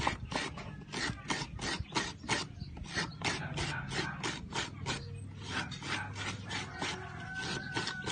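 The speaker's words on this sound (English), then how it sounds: "So this is how they grate coconut in the Philippines." Coconut being grated by hand on a manual grater in the Philippines, a quick run of regular rasping scrapes, close and fairly faint, with no talk.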